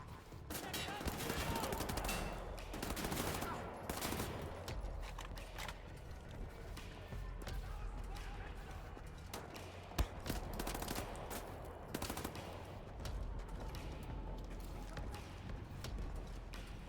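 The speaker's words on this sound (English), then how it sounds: "That submachine gun's pretty crap." Submachine gun fire in the shooter Wolfenstein: The New Order comes in rapid bursts amid a busy battle soundscape with other gunfire and a voice talking over it.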